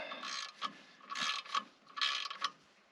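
An Icon torque wrench ratchets in short bursts, several quick clicking runs separated by brief pauses, close and fairly clear with no talking.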